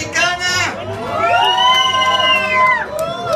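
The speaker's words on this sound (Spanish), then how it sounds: "¡Aplauso para el pirata!" A bar crowd cheers and whoops for costume contestants, loud overlapping shouts and voices swelling in long sustained waves, close and lively.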